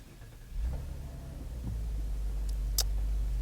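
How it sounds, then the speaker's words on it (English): A 2012 Cadillac CTS with a 3.6-liter direct-injected V6 starts up, catching after a brief crank and settling into a steady low idle rumble, close by and alone. "I will start it up and let you hear the engine for a second"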